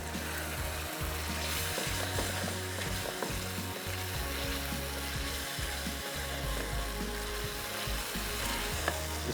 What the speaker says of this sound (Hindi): अब इसको इतना पकने दें कि ग्रेवी जो है अच्छे से पक जाए और इसके साथ साथ जो चिकन है वो गल जाए।